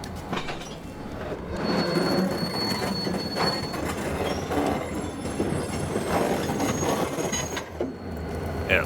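A train rumbles past hauling a railroad crane and a Rio Grande caboose, with steady rolling noise, rhythmic wheel clatter and high squealing from the wheels, heard continuously from nearby.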